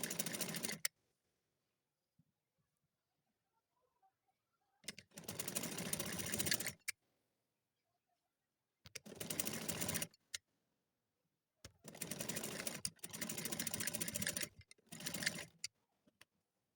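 A sewing machine stitches a round mandarin collar on a garment in several bursts of rapid needle clatter, with quiet pauses between the runs.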